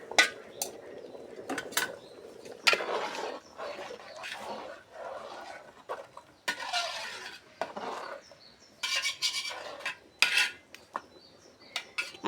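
Metal pots and utensils clank and rattle as a lid is set over a pot of biryani being cooked for a village gathering, irregular close knocks and scrapes with a brief voice in the background.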